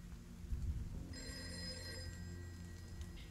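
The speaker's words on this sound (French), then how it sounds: "le téléphone de la chambre sonne" A hotel room telephone rings with a steady electronic trill that starts partway in and continues to the end, heard faintly over a low background hum.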